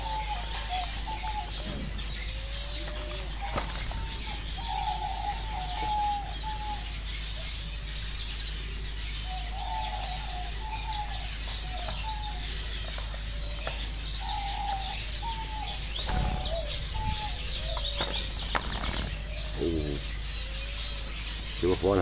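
Doves are set free inside a bird reserve. Their soft, repeated cooing rises again and again, with scattered chirps and a few sharp flutters and clicks, over a constant low hum.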